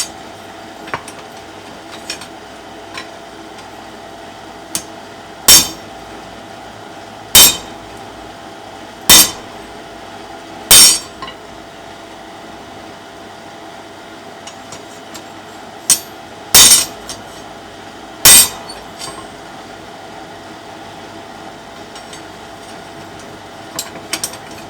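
Iron being forged into a hearth crane rings under about eight loud, sharp hammer blows in spaced groups, with faint clinks between them in a quiet workshop.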